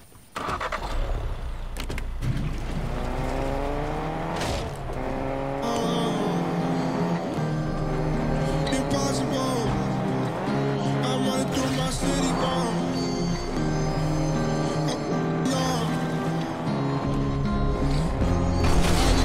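A race car in Fortnite drives steadily for about nineteen seconds, its engine tone rising and falling through gear-like shifts, loud and continuous with no talk over it.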